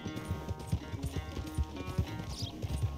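Galloping horse hooves in Red Dead Redemption 2, brisk rhythmic thuds driving steadily beneath a layered game soundtrack, close and even in loudness, with no voices.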